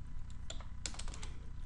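A few quick keystrokes on a computer keyboard while entering a short command on a Windows PC, a brief cluster of clicks over a steady low hum, no voice.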